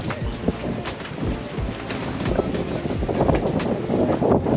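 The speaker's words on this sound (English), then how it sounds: "today it is windy as hell" Strong wind rumbles and buffets the microphone, with gusty bursts and low thumping blasts rising toward the end; no talking.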